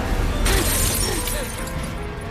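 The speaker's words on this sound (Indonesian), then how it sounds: "tiba-tiba Stephen pun muncul dan memecahkan kaca dan menembak Grace menggunakan pistol" A car window in the film Ready or Not is smashed in one sudden crash of breaking glass, followed by scattering debris, under a voice talking over the scene.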